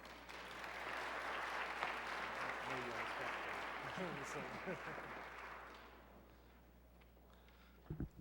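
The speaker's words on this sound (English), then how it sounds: "Please give Brother Michael Muhammad a warm round of applause." Sustained applause from an audience welcoming a speaker at a dialogue event on self discovery and family survival, a broad wash of clapping lasting several seconds before fading out, heard at some distance with murmured voices mixed in.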